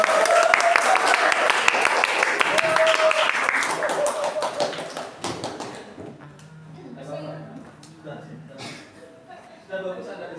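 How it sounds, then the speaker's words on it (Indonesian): A classroom audience gives a school teacher a round of applause, a dense clatter of clapping for about five seconds that fades into murmuring voices, chuckles and a few scattered claps. "tepuk tangan untuk Bapak"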